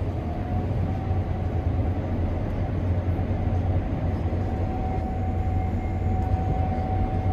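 Steady loud roar of a Gleaner S98 combine harvester running and blowing itself clean, a continuous broad rumble with a faint steady whine on top, unbroken throughout.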